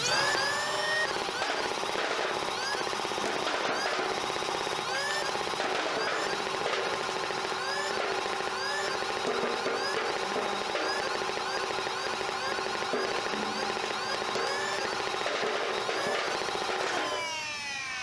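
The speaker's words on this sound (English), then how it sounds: "We're gonna start with the Jupiter and check its rate of fire." A Nerf Jupiter blaster fed from a proton pack tank fires in a rapid, continuous mechanical rattle of foam darts, close and loud for about seventeen seconds, with a whirring motor hum under it.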